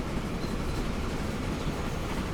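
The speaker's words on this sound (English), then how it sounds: "see if our coal train actually becomes a coal train" A coal train running in the video game Transport Fever 2 gives a steady, fairly quiet rumble of rolling wagons, continuous and even throughout with no talk over it.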